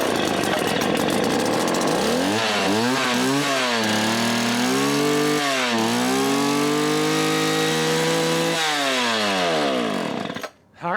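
A 1970s car jump starter powered by a chainsaw engine, old and dirty, catches on the first pull and runs, its loud nearby engine revving up and down repeatedly before cutting out abruptly at the end.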